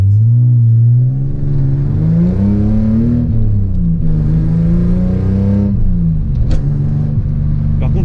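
Toyota Supra with a small aftermarket exhaust line, revving close and loud in several rising and falling swells before settling to a lower drone, with a few faint clicks near the end.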